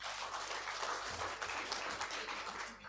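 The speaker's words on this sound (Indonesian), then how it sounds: "Kita berikan aplaus." An outdoor crowd at a peaceful campaign declaration in Toraja Utara claps steadily for the regent and deputy regent candidates; the applause is faint, sustained and distant-sounding, with no pauses.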